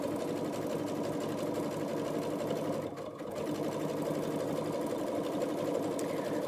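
A sewing machine runs steadily while stitching a bread proofing bowl, producing a close, continuous mechanical whir with a brief pause midway before resuming.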